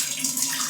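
Water streams steadily from an adjustable pipe at the back of a kitchen in a new house, a close, continuous hiss and splash with no break.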